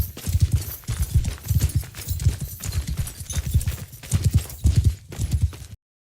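Cavalry horse hooves gallop in Mount & Blade II: Bannerlord, a loud, fast, continuous thudding clip-clop rhythm close by that cuts off abruptly near the end.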